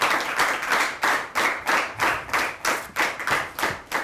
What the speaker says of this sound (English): A bigger round of applause for them